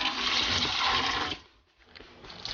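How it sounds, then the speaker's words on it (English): Milk splashing as it is poured into an industrial-sized oil drum, a loud steady gush of liquid for over a second that cuts off abruptly, followed by a quiet drip. "A splash of milk."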